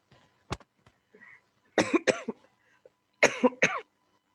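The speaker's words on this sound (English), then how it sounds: "I've got a cough, excuse me." A person coughs through a Sunday service, starting with a few small throat sounds and then two bursts of two or three harsh, close coughs. The coughs stand alone with no talk around them.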